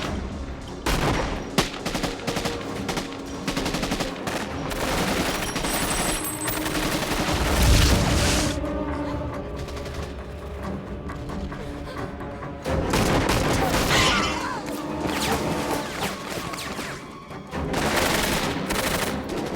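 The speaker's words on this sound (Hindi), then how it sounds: "फायर करते रहो।" Dense gunfire erupts in an action movie battle scene, with loud overlapping volleys and booming impacts that continue almost without a break.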